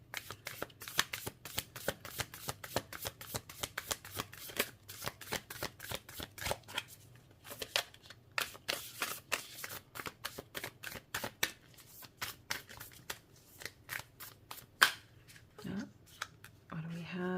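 Tarot cards in a fairly new, stiff deck being shuffled repeatedly in close, crisp riffling bursts for most of the stretch, with a few pauses and occasional handling noises near the end.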